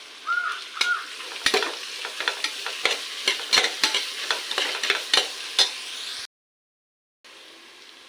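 Sliced onions sizzle loudly in a hot oiled pan for beef curry while a spoon scrapes and stirs them in repeated sharp clicks, the frying hiss steady until it briefly cuts out near the end.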